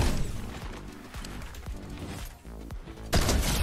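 Rapid gunfire crackles in a competitive shooter game, with a run of sharp, close shots and bursts spread across the moment and a louder crack near the end.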